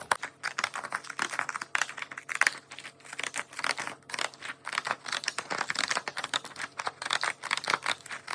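Texture scissors snip through paper in a craft collage, a quick, close run of soft crisp cuts and paper crinkles repeating steadily and quietly with no talking.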